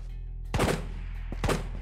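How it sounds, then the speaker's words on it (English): Two sharp gunshots from Escape from Tarkov's Ghosts of Tabor mode, about a second apart, fairly loud and close over a low steady hum, with a faint tick between them. "Those gunshots were landing."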